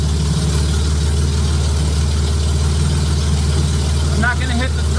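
A J35 engine fitted in a Subaru Baja idles just after start-up, a steady low rumble with a faint pulsing throb, close and continuous, with a voice briefly heard near the end.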